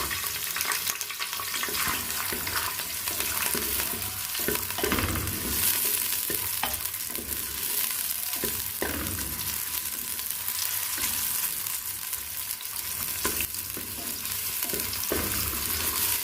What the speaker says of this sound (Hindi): घी गरम हो चुका है, मैं इसमें डाल रही हूँ प्याज।